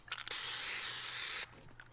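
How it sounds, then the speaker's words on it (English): In the video game Fortnite, a spray can paints the side of an ice cream truck. A single sharp, steady hiss lasts about a second and a half between faint short clicks. "In real life, I'm gonna spray some ice cream on the side of this truck."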